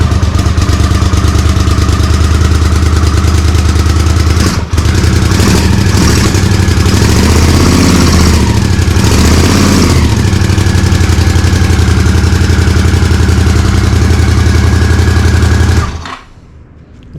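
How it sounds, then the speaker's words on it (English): A Honda CX500 motorcycle, given a little choke, starts and idles steadily with a loud, close, even engine drone and some clatter for about sixteen seconds before it cuts off near the end. "Give the bike a little bit of choke and hit the ignition"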